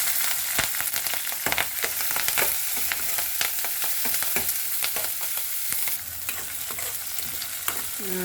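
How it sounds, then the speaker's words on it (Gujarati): Small pieces of garlic and green chili sauté in hot oil with ajwain over a low gas flame for a chutney, a steady moderate sizzle broken by frequent sharp stirring scrapes. "લસણ અને મરચું બે સાતળું છું"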